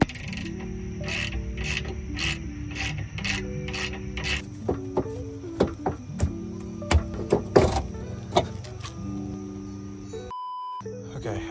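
Rusty suspension bolts, soaked in PB Blaster, are worked loose with a wrench while a camber arm is removed. Rapid ratchet clicks come in bursts, with sharper metallic clunks and knocks, over a steady background hum.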